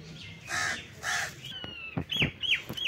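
Several crows caw in short, loud harsh calls, two broad squawks followed by a quicker burst of sharper caws, close by over faint outdoor background.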